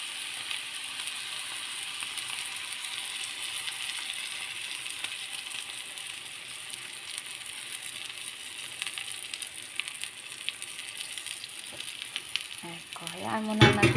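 Egg frying in a pan over low heat gives a steady crackling sizzle throughout, joined near the end by louder clinks and scraping of stirring utensils.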